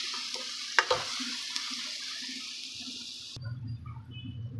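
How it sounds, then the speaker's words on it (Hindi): Spices sizzling in a pan as a tadka for moong dal, a steady low frying hiss with a few sharp clicks early on, then a louder burst of sizzle near the end. "अब इसको अच्छे तरीके से फ्राई करेंगे मसाले को।"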